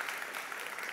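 A church congregation claps together during a sermon in a short, steady burst of dense applause that fills the room evenly.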